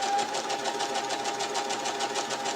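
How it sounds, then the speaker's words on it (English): A sewing machine runs steadily at an even pace, stitching a small neat seam along a drawn line on a quilt piece, its rapid rhythmic whir close and continuous with no talking. "we're just going to stitch on the drawn line"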